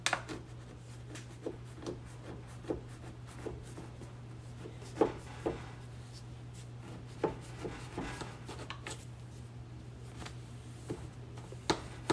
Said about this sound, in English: Just making sure I run my knife again twice because I want to make sure that it's cut